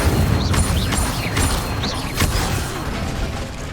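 Incendio fire spell cast in Hogwarts Legacy, loud rushing blasts and booming whooshes with mechanical creaks and pops, dense and continuous for nearly four seconds without talk.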